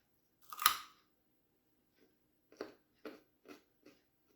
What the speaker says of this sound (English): You can barely hear me chew